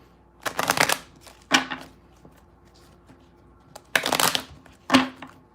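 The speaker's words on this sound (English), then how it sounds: "I'm going to pull 3 cards here and see how you can activate love." Tarot cards riffle-shuffled in four quick, crisp bursts, close and distinct, separated by near silence, with no talking.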